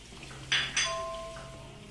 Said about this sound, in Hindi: एग को ज्यादा नहीं चलाना, बस ये 3 से 4 स्पून चला के छोड़ दें।